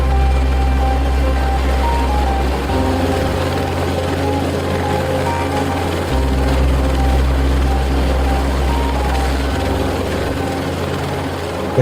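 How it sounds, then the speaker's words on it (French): Helicopter reconnecting a high-voltage power line after an ice storm, a loud, steady rotor and engine drone that holds through the whole stretch, with low pulsing shifting in level now and then. "on est témoin du rebranchement spectaculaire d'une ligne à haute tension par hélicoptère"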